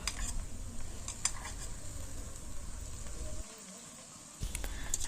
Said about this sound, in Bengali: এবার দিয়ে দিচ্ছে আদা রসুন বাটা